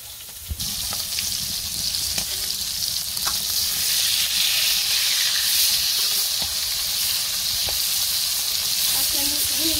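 Rohu (rui) fish fries in a pan with a loud, steady hissing sizzle that swells slightly and holds throughout, with occasional utensil clicks close by.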